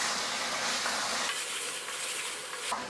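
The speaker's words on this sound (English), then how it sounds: "So add the potatoes in. Give it a nice little mix." Lamb curry with potatoes is stirred in a pot, giving a steady sizzling hiss with soft scraping movement, close and moderately loud, with no talking.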